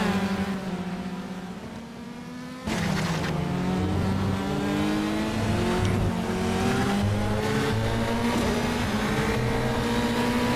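Formula 3 race car on a hot lap at Circuit Gilles Villeneuve in a racing video game: a steady, loud engine drone rising and falling in pitch through gear changes, with tire squeal, after a quieter opening stretch.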